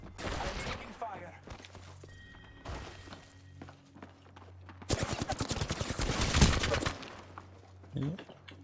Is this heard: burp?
no